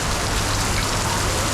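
Heavy rain from Mumbai's first monsoon downpour makes a dense, loud and steady hiss that stays constant throughout, with no voices.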